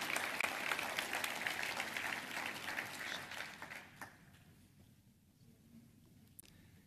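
Audience applause at a formal military awards breakfast, honoring recipients of an action award: a dense, steady round of clapping for about four seconds, then tapering to scattered claps and room tone.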